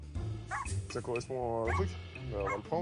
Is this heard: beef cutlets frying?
no